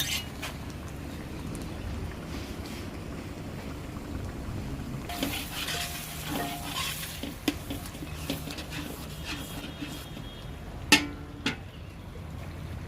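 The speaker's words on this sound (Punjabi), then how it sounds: "ਇਹਦੇ ਵਿੱਚ ਘਿਓ ਪਾ ਕੇ ਇਹਨੂੰ ਅੱਛੀ ਤਰ੍ਹਾਂ ਭੁੰਨ ਲਵੋ" An almond powder mixture being roasted in ghee, a low continuous sizzle with occasional stirring scrapes and a couple of sharper utensil knocks near the end.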